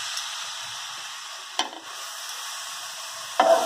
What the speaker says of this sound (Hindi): घी गरम हो गया, अब इसमें हम कसे हुए पपीते को डालेंगे।